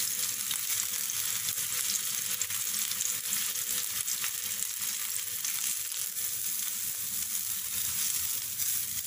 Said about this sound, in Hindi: हल्के हाथों के साथ हिलाते हुए हर तरफ से इनको फ्राई कर लेंगे।